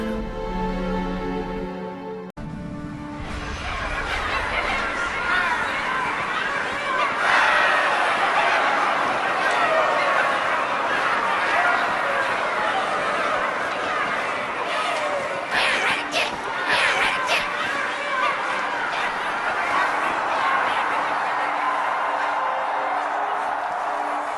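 Steady murmur of a large crowd in the video game Halo 2, many voices blending into a continuous babble with occasional louder swells, filling the whole stretch without pause.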